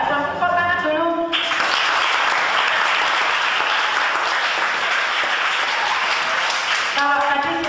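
A school audience at a junior high student council campaign speech in Malang bursts into loud, steady applause that starts abruptly and then cuts off, with a brief musical tone before and after.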